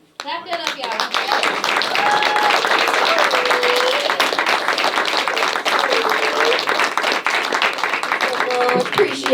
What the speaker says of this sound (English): Clap that up, y'all.